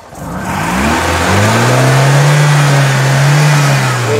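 A car engine with a sticking carburetor revs up from idle and hangs high instead of dropping back promptly on a cold start, a loud sustained rising drone heard close with no talk over it.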